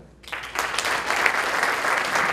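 An audience at a university ceremony for handing credentials to top officials breaks into applause, a sudden burst of clapping that stays full and steady.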